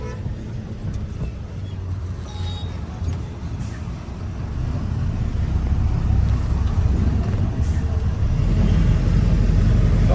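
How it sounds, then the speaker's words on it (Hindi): A loaded truck with a loose front grille drives along, its engine rumbling low and steady and slowly growing louder over the whole stretch. "वो जाली क्या है कि थोड़ा ढीला हो रहा है, तो कभी कभी आवाज़ करने लग जाता है"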